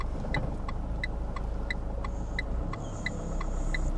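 A car pulls out and drives through Paris streets in second gear, a low steady engine rumble heard from inside the cabin, with a regular ticking indicator over it and no talking.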